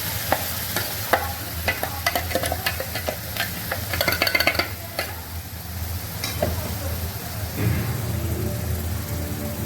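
Blended tomato sautés in oil with chilli powder, cumin powder and coriander powder for Rajasthani besan gatte curry: a close, continuous frying sizzle punctuated by scraping and clicking stirring strokes.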